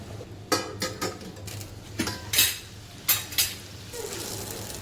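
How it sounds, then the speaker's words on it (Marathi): Stuffed bell peppers frying in a pan, a low sizzle under a string of metal spatula scrapes and clinks against the pan, with a faint steady hum beneath. "थोडीशी मिरची आपण परतवून घ्यायची, हलवून परत झाकण ठेवायचं."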